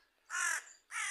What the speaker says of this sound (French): Regardez ce que je vois en haut. Un corbeau.